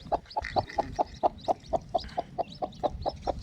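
A hen clucks in a steady, even rhythm, about a dozen short clucks close by and fairly soft, with no talking.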